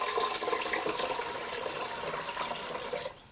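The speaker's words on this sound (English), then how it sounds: "add filtered water" Filtered water poured onto rice in a pot, a steady rushing stream of liquid for a few seconds, fairly loud and close, tapering off at the end.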